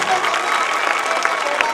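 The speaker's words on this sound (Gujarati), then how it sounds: "એકવાર જોરદાર તાળીઓ થઈ જાય" An audience at a school annual function claps in a loud, sustained wash of applause, with faint voices mixed into the crowd.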